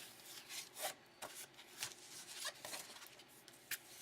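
A folded paper card base being burnished by hand, quiet repeated rubbing strokes in short bursts, faint and close, with no talking.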